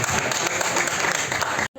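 An audience at a Bharatanatyam performance and temple lamp festival applauds in a dense, fairly quiet burst that stops abruptly near the end.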